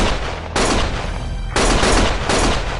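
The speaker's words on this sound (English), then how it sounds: "Stop shooting!" Loud, dense bursts of automatic gunfire in Lost Judgment come in three sustained blasts with brief lulls between them, close and harsh.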